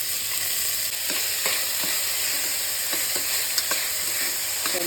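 Onions and a bay leaf fry in oil, giving a steady, loud sizzle with faint stirring clicks throughout and no voices.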